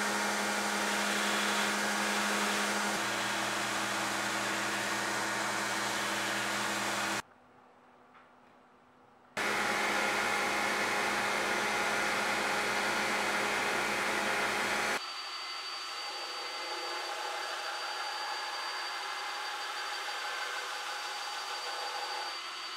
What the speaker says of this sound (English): This is reasonably demanding grinding, but not nearly as much of a pain as all that filing.